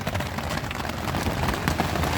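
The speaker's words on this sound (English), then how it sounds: "Not hailing at the moment, but it's raining like crazy." Heavy rain drums steadily on a tarp over a camp with a bike nearby, a dense, continuous close-up patter with no voices.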